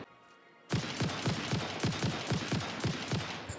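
Rapid automatic gunfire in Satisfactory as a player shoots at a hatcher creature, about a dozen sharp evenly spaced shots in a steady burst that starts abruptly after a brief quiet.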